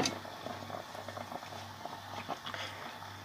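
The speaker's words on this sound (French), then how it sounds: "on va laisser ça mijoter tranquillement en couvrant notre cocotte" Rabbit stew with mustard simmering quietly in a covered cast-iron pot, a faint soft bubbling and patter over a low steady hum, with light clicks throughout.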